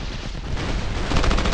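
Gunfire in the game Battlefield Heroes: a dense, rapid stream of shots rattling without pause, louder toward the end, with no talking.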